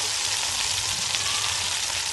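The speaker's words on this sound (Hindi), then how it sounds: "मैंने इसको बस दो मिनट यहाँ पे फ्राई करना है" Chicken frying in a pan for dhaba-style karahi, a dense, even, close sizzle with faint stirring underneath and no voices.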